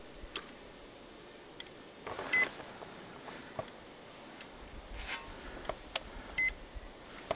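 A proton magnetometer gives faint electronic beeps and ticks at irregular intervals over a quiet, hissy background, with a few louder clicks and short bursts, outdoors in a field test.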